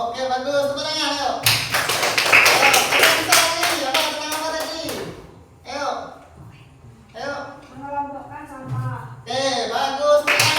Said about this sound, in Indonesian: Tepuk tangan, ayo.